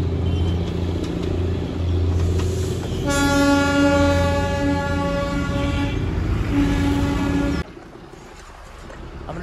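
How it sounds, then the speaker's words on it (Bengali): Darjeeling toy train passing near Batasia Loop, the rumble of its carriages close by and a long, loud horn blast in the middle, then the noise drops away abruptly, no speech. "দেখো টয় ট্রেনটা তখনই পাস করলো"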